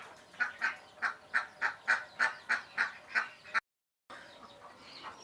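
Domestic ducks and chickens at feeding time give a rapid run of about a dozen evenly spaced, loud nasal quacks and honks, then a short pause before softer fowl calls resume.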